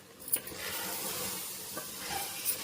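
Rice being stirred with prawns and masala in a pot for prawn biryani, a soft continuous scraping and gentle sizzle with a few light clinks, close and alone.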